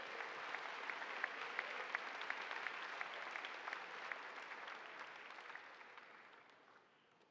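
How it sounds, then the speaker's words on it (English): A school assembly audience claps in a steady round of applause with a few sharper individual claps standing out, moderately distant, fading toward the end with no voices. "Let's give a round of applause again to our spaghetti supper chairs who do a great job"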